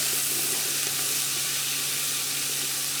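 A very hot pan sizzling loudly as it is stirred, a dense and even hiss that holds close up for the whole stretch with no speech.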